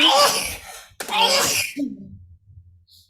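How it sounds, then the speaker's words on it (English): Two loud, close sneezes in quick succession, the second trailing off into a short voiced exhale, then quiet. "Bless you, whoever sneezed in our ears."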